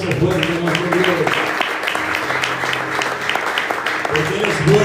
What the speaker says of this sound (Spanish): Le damos ese aplauso fuerte a nuestro Dios